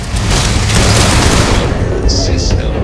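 Pistol fire in the space role-playing game Starfield, loud and close, with rapid shots blurring into a dense, continuous burst of gunfire and clatter.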